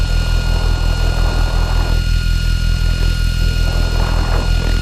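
A drone from a university team hovers and flies near Guishan Island, making a loud, steady propeller buzz with a high tonal whine that holds throughout.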